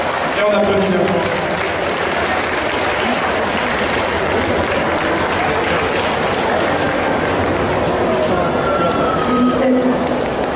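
Audience applause at an indoor cosplay contest during a festival, a dense, loud, continuous roar of clapping and crowd noise filling the whole stretch, with faint voices mixed in.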